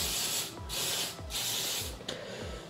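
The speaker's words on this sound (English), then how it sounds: "So I'm just gonna spray my hair" Several short hissing bursts of hairspray from an aerosol can, spaced evenly in quick succession, close by with no talking.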